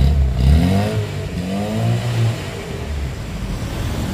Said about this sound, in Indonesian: suara mesin masih seperti ini